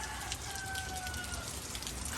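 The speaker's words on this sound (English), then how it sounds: "so far, we've had almost 2 inches of rain. So we are on our way to who knows how much." Heavy rain from Storm Hilary falls steadily in a dense, even hiss on surfaces nearby, with a faint thin tone lingering briefly in the background.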